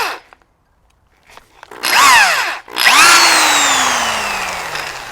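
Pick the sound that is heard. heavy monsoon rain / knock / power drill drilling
power drill drilling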